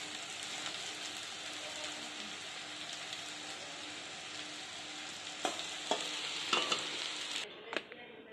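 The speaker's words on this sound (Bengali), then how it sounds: "করলা ভাজা চলছে এখন।" Bitter gourd slices frying in a home kitchen pan, a steady close sizzle with occasional sharp stirring scrapes and clicks near the end.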